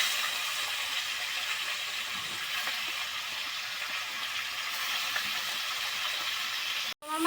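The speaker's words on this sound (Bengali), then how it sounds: "তো তেলটা আমার গরম হয়ে গেছে, আমি এখন মাছ দিয়ে দিব।" Fish sizzling and frying in hot mustard oil in a home kitchen, a steady dense crackle held close and even throughout, broken by a brief sharp gap and thump near the end.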